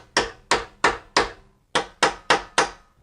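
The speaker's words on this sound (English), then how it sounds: "you need to unstake it with a chisel and a hammer" A hammer drives a chisel to unstake the axle nut during a rear wheel bearing job on an E53 BMW X5: eight sharp, loud, close metallic strikes in two evenly paced groups of four, with no talking.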